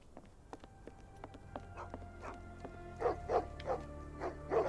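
Dogs barking in the video game Sherlock Holmes: The Awakened remake. Sharp clicks and soft tones come first, then a run of several loud, close yips and barks in quick succession near the end.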